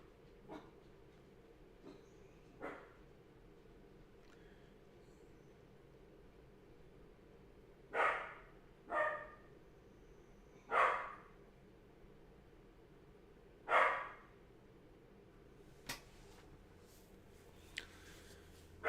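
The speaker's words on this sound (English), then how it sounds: "he is a Dotson though, so he likes to bark at everything." A dachshund barks indoors, apparently from another room, in four muffled, well-spaced barks of two to three seconds apart, over a quiet background hum with a few faint ticks.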